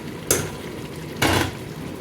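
Chicken pieces drop into sizzling fried masala in a pan for chicken curry, two loud bursts of sizzle about a second apart over a steady low frying hiss.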